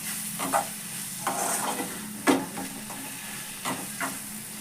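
Amaranth leaf (thotakura) curry sizzles softly in a pan while a spoon stirs it, giving several distinct scraping strokes spaced out over a constant frying hiss.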